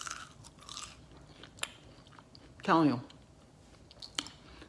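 Someone bites into crunchy fried frozen French fries, one short close crunching burst in a quiet room, with soft speech before it.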